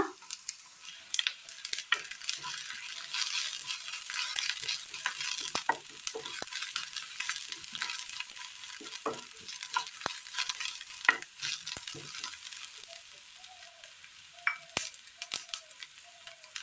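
Shallots fry in a pan with crushed dried chilli and curry leaves, giving a steady crackling sizzle with sharp pops and stirring scrapes throughout, close and alone with no voices.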